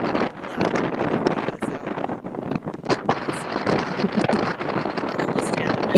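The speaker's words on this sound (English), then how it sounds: "She's vacationing where it sounds like it's very windy." Strong wind buffets the microphone in a steady, loud roar across an outdoor vacation spot, with gusty surges and rumbling throughout.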